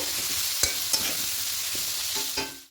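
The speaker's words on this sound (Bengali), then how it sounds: "ভালো করে মিশিয়ে নেব নিয়ে আর একটু কষিয়ে নেব" A khichuri mixture with green chili paste is sautéed in a pan, giving a loud, continuous frying hiss with a few distinct spatula scrapes and knocks, close up, with nobody speaking.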